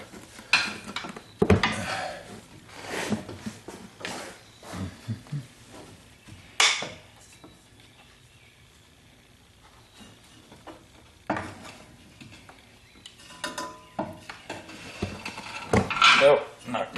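On a 2014 Ford Fusion, a small pry bar scrapes, clanks and clicks against metal car parts in irregular close bursts, with quieter stretches between attempts.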